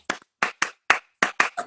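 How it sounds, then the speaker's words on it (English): A single person claps sharply, seven crisp, close hand claps in an uneven rhythm with near-silent gaps between them. "I'll make a clap."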